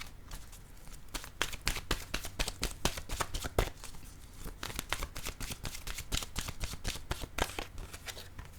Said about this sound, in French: Je vais demander une carte pour lui de mon oracle de l'âme intuitive.